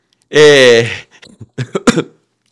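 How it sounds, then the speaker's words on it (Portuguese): A person coughs in one long harsh burst, then several shorter, quieter cough-like bursts and throat sounds trail off, close up and loud with no other sound. "eu tossi até rir"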